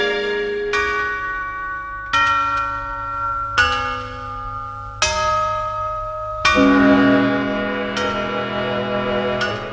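A tower bell on a town belfry chiming in a cartoon, five loud resonant strikes spaced about a second and a half apart, each ringing on with long decaying overtones.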